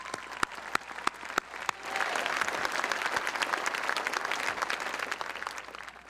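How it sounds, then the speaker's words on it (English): Graduation ceremony audience at South St. Paul bursts into sustained applause after a few scattered early claps, a dense even roar of clapping hands filling the hall. "Let's give them a nice round of applause."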